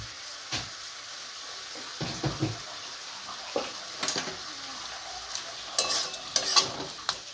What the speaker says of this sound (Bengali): এটাকেও আমি নেড়ে মিশিয়ে দিলাম